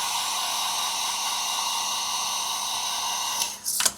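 Heat gun warming vinyl wrap film for a patch repair, a steady close blowing hiss running throughout, ending with a brief shuffle of handling noise.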